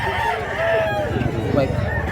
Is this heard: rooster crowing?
yes